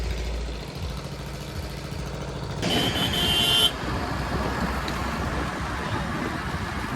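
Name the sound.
vehicle being driven off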